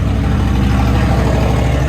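A car engine rumbles with a deep, throaty exhaust note, steady and fairly loud, with no talking.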